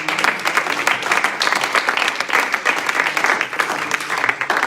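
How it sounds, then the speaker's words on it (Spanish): Church congregation applauding during a sermon, a steady, dense wash of clapping from many hands that stays loud and even throughout. "Denle un aplauso al Señor."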